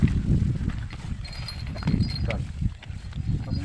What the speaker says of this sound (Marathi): आता आम्ही असेच बैल फिरवतो